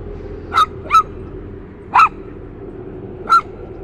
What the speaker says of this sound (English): He's barking too